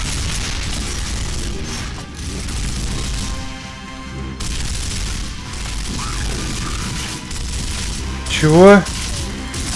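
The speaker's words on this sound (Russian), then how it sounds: "Кто там стреляет?" Gunfire in the Gears of War video game booms and crackles in a dense, continuous battle din, with a sharp louder burst near the end and a brief spoken word.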